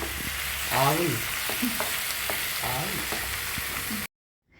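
Tomato chutney with green chillies and coriander sautéed in a pan, a loud steady sizzle with repeated scraping strokes of a spoon through the mixture, close by, ending abruptly in silence near the end.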